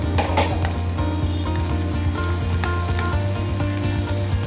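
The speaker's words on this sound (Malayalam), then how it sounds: "നമുക്ക് സവാള ഇട്ട് കൊടുക്കാം. ഒന്ന് വരട്ടിയെടുക്കാം." Sliced onions sautéing in hot coconut oil for a prawn roast, a steady, close frying sizzle with occasional stirring scrapes throughout, no voices.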